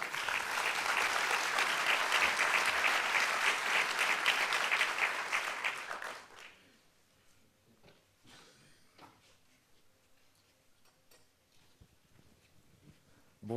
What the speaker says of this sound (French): Je vous demande d'applaudir très chaleureusement Lucien Salemi.